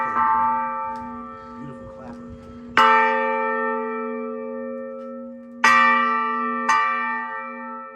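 Church bell at Whitefield church struck repeatedly, with several loud clanging strikes whose long ringing tones overlap and decay, preceded by faint chatter and room sounds.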